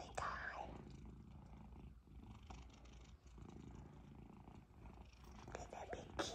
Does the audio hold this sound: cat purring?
yes